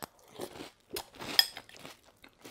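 Crisp, irregular crunching of keto cinnamon pork rind cereal being chewed up close, several loud bites and munches in quick succession with short pauses between, no talking.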